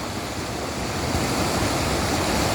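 The South Fork of the Yuba River flows steadily at 7 a.m., a broad, constant rushing wash of water with no break, close and fairly loud, with no voices.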